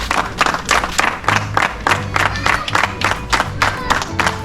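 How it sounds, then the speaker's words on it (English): A crowd claps and cheers in bursts with a pulsing rhythm over loud music with a low beat, filling the space closely. "I just want to give them a round of applause."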